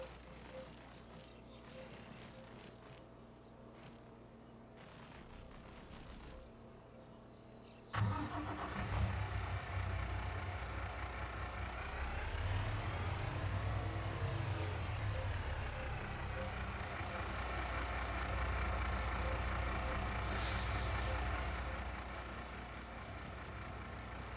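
Truck engine in Farming Simulator starting abruptly and then idling and revving steadily at a medium pitch, loud and close, with no talking.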